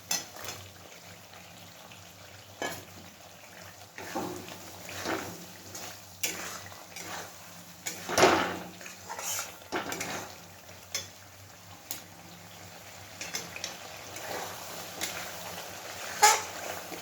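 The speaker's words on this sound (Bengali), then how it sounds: "এবার আমি ভেজে রাখা পনিরগুলোকে এর মধ্যে দিয়ে দিচ্ছি।" Fried paneer cubes are tipped into a pan of spiced oil with a soft sizzle, followed by intermittent clinks and scrapes of a utensil against the pan at moderate volume, with no talking.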